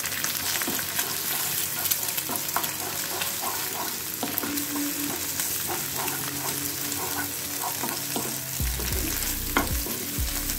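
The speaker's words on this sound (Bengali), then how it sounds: "এবার ডিমটা ভেজে নেবো" Egg frying in oil with scattered onions, a constant near sizzle broken by frequent stirring clatter and scraping, a heavier knock near the end, no voices.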